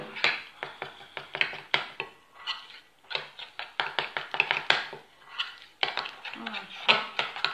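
Cake batter of flour and baking powder being mixed by hand in a bowl, with repeated quick scraping and clinking strokes in an uneven rhythm, close and moderately loud.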